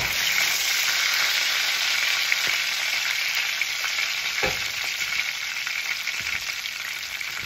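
Homemade chicken cutlets fry in a pan with a loud, constant close-up sizzle, broken by an occasional scrape or knock of a utensil.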